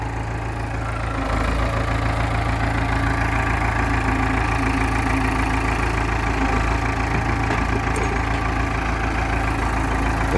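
A tractor engine idles steadily nearby, a loud continuous low rumble with a slight knocking rhythm and a small rise in level early on.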